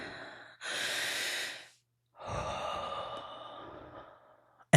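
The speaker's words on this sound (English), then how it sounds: "pause, plant your feet, and take one deep breath" Deep breaths taken up close: a long inhale and a long, slow exhale with a silent pause between, ending in a brief sharp sound.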